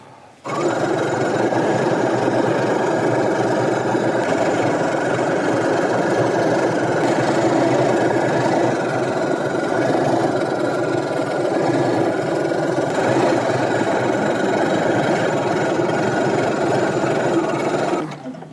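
A sewing machine stitches up the side of a skirt in one continuous, loud, close whirring run of about eighteen seconds with a steady mechanical rattle.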